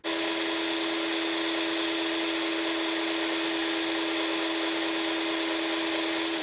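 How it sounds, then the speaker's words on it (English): A power drill whirs loudly and continuously at a steady, high pitch, with no pauses. "I'm just going to drill some holes."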